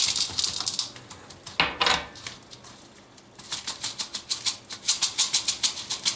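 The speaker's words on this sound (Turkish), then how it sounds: "Klasik bir çay bardağı böyle kaya tuzu ilave ediyorum" Rock salt pours from a classic tea glass while olives are prepared, making a close, gritty rattle of coarse grains that comes in uneven bursts and then a quicker run of clicking patters, with no talking.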